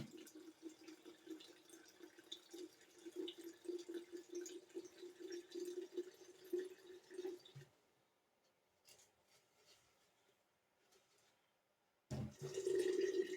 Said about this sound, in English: we're going to fill up the jars